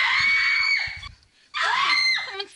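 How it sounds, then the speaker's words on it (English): A woman in the video game Night Trap letting out two long, piercing screams, loud and close, separated by a brief pause. "Someone's screaming."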